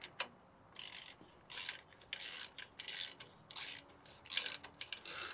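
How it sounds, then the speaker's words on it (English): A clamp being tightened on a DIY car camera rig, giving repeated rasping ratchet-like bursts in an irregular rhythm, close and fairly loud, with no speech. "You can keep tightening it."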